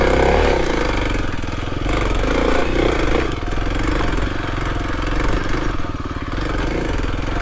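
A Kawasaki KLX 300 dirt bike climbs a rocky hill trail, its single-cylinder engine loud, rough and steady throughout. The exhaust thumps in a rapid, continuous rhythm close to the microphone.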